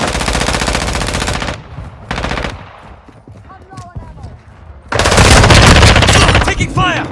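Loud bursts of automatic gunfire in Call of Duty Modern Warfare 2 multiplayer, a rapid stream, a short pause with quieter game sounds, then a heavy, sustained volley close by.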